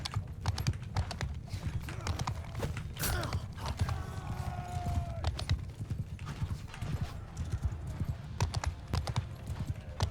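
Mount & Blade Bannerlord battle: a continuous clatter of many horse hooves from charging horse archers, with a brief whinny and keyboard clicks mixed in, at steady loudness throughout.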